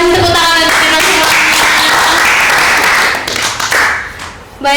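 Loud, close clapping from people at a Catholic podcast and live-stream session fills the scene in a dense burst, thinning and fading before a final sharp clap.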